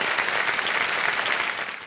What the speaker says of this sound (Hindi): एक बार जोरदार तालियां हो जाए अर्चना जी के लिए